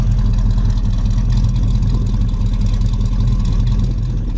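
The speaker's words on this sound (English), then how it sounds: "This car sounds great." A 1964 Chevy Chevelle's engine runs steadily close by, a loud, even low rumble with a fine rhythmic pulse and no change in pace, heard alone without talk.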